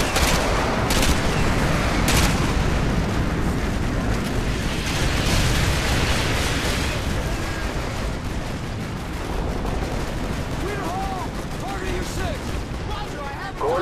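Artillery barrage in Call of Duty: Modern Warfare 2 forms a continuous heavy rumble of explosions and scattered gunfire, loud and dense throughout, with sharper blasts early on.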